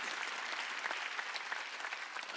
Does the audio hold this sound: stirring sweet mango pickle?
no